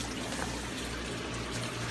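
Water drains through hoses into a central sump in a fish room, a continuous close trickling and gurgling flow with no speech.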